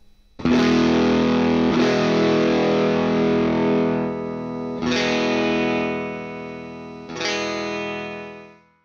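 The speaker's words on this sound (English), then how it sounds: "Here's what turning down a ganged stereo volume sounds like." Distorted Telecaster electric guitar chords ring out in a few loud strums, each one fading away as a ganged stereo volume control is turned down, ending in near silence.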